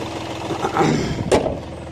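A diesel Hyundai Grand i10 with a three-cylinder engine idles nearby, a low steady rumble with a brief louder knock partway through.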